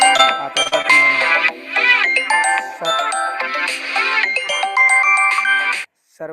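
A mobile phone ringtone plays a loud, bright melodic tune of repeating chiming notes close by, then cuts off abruptly near the end.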